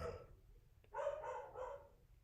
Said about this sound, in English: Doggos are barking.